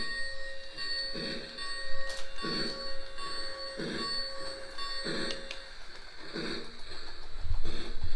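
Lionel O gauge Polar Express toy train running on its track, with soft rhythmic clacking pulses at a steady pace beneath a continuous faint ringing bell tone.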